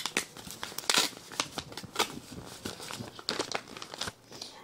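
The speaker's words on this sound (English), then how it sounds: "We got two cards here we're going to have to open." A greeting card envelope being opened, its paper crinkling and rustling in quick, busy bursts close by, fairly loud, with no talking.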